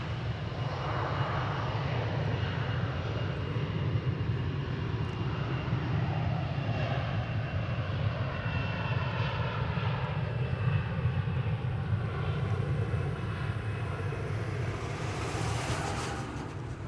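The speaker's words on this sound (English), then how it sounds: "There goes flight 2997 off to San Francisco." A jet airliner takes off at DFW Airport, its engines roaring as a steady, broad rumble that holds loud and constant for the whole stretch, heard from the distance of the spotting area with nothing else over it.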